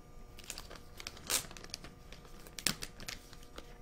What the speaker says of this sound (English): Okay, let's take this plastic off.